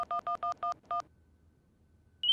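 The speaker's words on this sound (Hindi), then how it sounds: "फोन लगा के देखते हैं।" A telephone is dialed with a quick run of six dual-tone keypad beeps in an uneven rhythm, followed by a quiet pause and the start of a higher single tone at the end.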